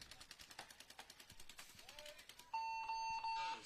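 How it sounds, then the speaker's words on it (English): A long electronic game buzzer sounds at a 2023 World Cup match, broken by a brief gap, following a stretch of rapid rhythmic clatter and faint background voices. "just as the buzzer was being pushed"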